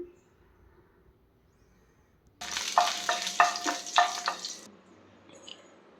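Whole spices (shahjeera, cinnamon, cloves and a cardamom pod) hit hot oil and burst into a loud, steady sizzle after a quiet start, with a few sharp crackles, then fade to a softer hiss near the end.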